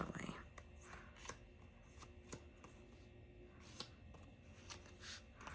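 Album photo cards being handled and shuffled, with soft papery slides and several sharp card snaps spaced irregularly over a quiet background, close and faint.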